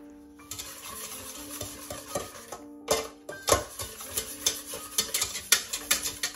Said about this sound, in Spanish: Mezclaremos todo con un tenedor o también puede ser con una varilla de cocina